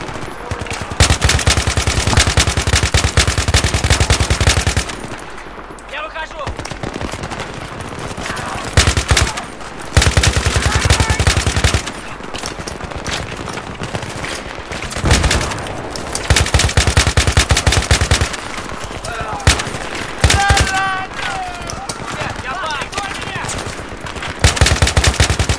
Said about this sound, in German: Boah, mein Gott, ist das viel Geballer.